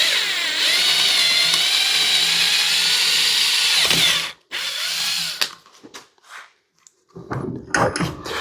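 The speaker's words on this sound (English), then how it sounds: "we can go ahead and drill that out" A power drill whines steadily for about four seconds as it bores into a cracked wooden shotgun forend stock, then stops, followed by scattered handling noises and knocks.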